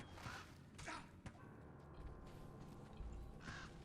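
A summoned raven from a druid in Diablo 2 Resurrected caws repeatedly, several sharp croaking calls spaced apart amid soft game rustles and thuds.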